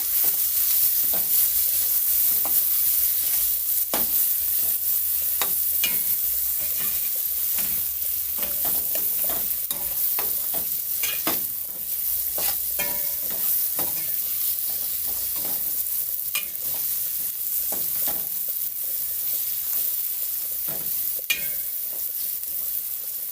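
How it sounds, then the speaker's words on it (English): Sweet pepper, onion and garlic fry in a pot for a Jamaican-style curry cabbage dish, a constant loud sizzle broken by many irregular scraping stir strokes, close up and without talk. "Sweet pepper, onion, garlic and all those stuff. Give it a stir."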